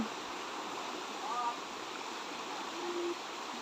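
Floodwater flows over rice fields after heavy rain as a steady, even rushing hiss, like a nearby stream, with faint tonal bits briefly rising above it.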